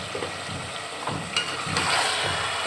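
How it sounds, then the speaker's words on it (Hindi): A masala of green chili and three chopped tomatoes fries for a chicken and turnip curry, making a moderate sizzle broken by bursts of stirring. "ताकि अच्छे से फ्राई हो जाएगा मसाला।"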